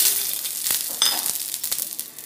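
Semiya frying in hot ghee for prasadam, a steady close sizzle with a few soft stirring knocks throughout, no voices.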